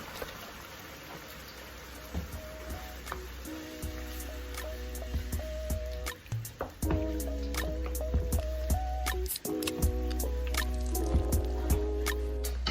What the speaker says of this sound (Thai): เราก็เติมน้ำกะทิลงไปเลยค่ะ แล้วก็ปล่อยให้แกงเดือดต่อไปอีกสักพักนะคะ